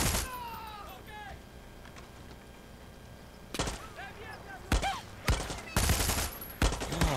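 Gunfire aimed at the player in the video game Far Cry 6: sharp bursts of rapid shots and volleys, loud and close, come in clusters in the second half after a quieter stretch with a few distant pops.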